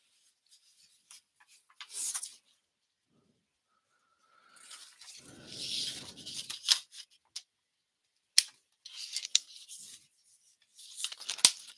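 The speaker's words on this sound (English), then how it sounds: "So I'm gonna take two sheets and cut at the same time." Scissors snipping through two stacked sheets of paper during paper crafting, a few short separate crisp cuts and rustles spread out with quiet gaps between, close and soft.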